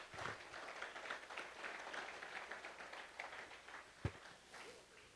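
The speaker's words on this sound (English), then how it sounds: "Let's give them another round of applause" An audience at a regional challenge opening ceremony fills the space with sustained, dense applause heard from a distance, a continuous wash of clapping with one louder knock partway through.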